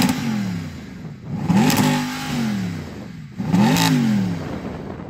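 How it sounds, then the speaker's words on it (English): Mercedes-AMG SLS Black Series engine revving twice, each blip rising sharply then falling away, loud and close with a rumbling idle between the revs and no talking. "Go on, rev up the AMG."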